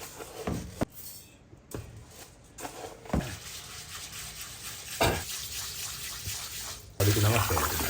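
Rice being rinsed under a running kitchen tap at a ramen shop, splashing water with intermittent swishes and gushes, close by, under talk.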